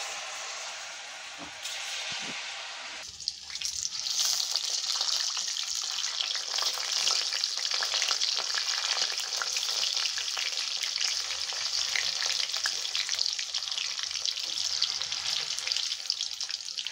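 Palm fritters made with palm pulp, jaggery, banana, semolina and rice flour drop into hot oil, which bursts into a loud, steady sizzle that continues without a break after a quiet start.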